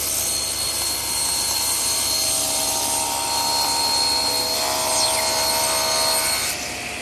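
A table saw with a crosscut sled slices through hardwood, a steady loud whirring blade tone holding for several seconds with the cut drawn out continuously and no talking.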